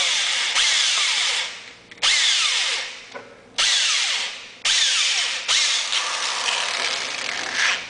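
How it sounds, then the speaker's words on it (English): A power drill whines in several bursts, drilling down into clay packed for a potassium nitrate rocket, stopping and restarting with brief pauses between, close and loud with no talking. "Just press it hard in the middle of the clay and just drill it down."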